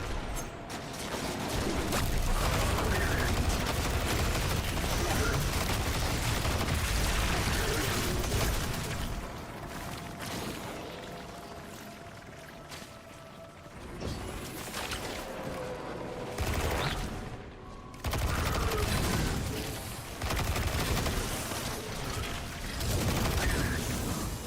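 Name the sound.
gunfire from enemies in video game Destiny 2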